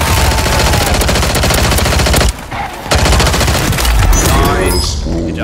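Rapid automatic gunfire in the video game Warzone 3 rattles loud and continuous, breaking for a brief pause before the bursts resume and trail off near the end, with a voice talking faintly underneath.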